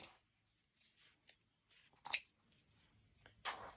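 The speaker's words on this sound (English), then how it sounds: "So I'm just going to trim this so it's straight across" Scissors trimming the bottom of a denim jeans pocket for an upcycled fanny pack, a few soft, close snips and rustles of fabric spaced across quiet gaps.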